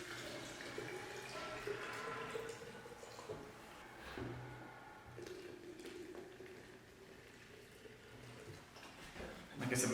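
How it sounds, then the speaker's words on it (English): Distilled water pours into a jar while making tepache, a steady splashing fill running throughout at moderate level, with a brief clatter of handling near the end and a muffled voice faintly in the background. "And fill this one up with more distilled water."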